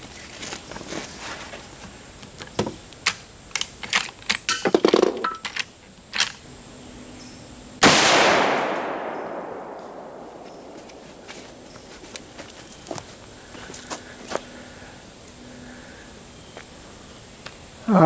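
A single sharp shot from a Marlin 336 lever-action rifle fitted with new rear sights rings out loud and close, with a long fading echo, while insects chirp steadily and footsteps rustle before it.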